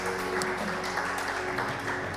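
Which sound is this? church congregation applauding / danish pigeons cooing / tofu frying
church congregation applauding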